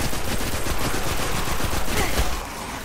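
Gunfire from weapons in the video game Destiny rattles on without a break, with dense, loud, overlapping shots filling the whole stretch before easing slightly at the end.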